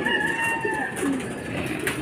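Racing pigeons coming in to a loft after a training toss from Lucena, with soft cooing and steady wingbeat-like flutter over a continuous outdoor background, close and fairly loud, no talking.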